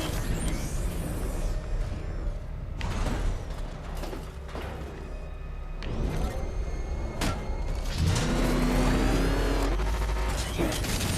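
Batmobile engine in the Batman Arkham Knight video game revving and rumbling loudly with mechanical clanks and thuds, swelling louder near the end, with no talk over it.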